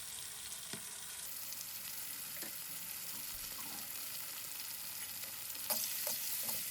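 Ginger and garlic paste frying in a pan after the onions, a steady low sizzle broken by occasional scraping and knocking from stirring, fairly close and quiet.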